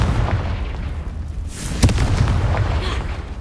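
A Confringo fire-spell blast in Hogwarts Legacy, one sudden burst amid a rumbling low background of game combat, followed by lingering crackle and noise.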